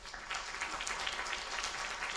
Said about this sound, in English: could we have a round of applause for our participants on the panel?